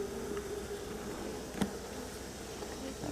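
Agitated honeybees buzz steadily around an opened top bar hive during an inspection, a close, dense drone with a brief sharp knock partway through.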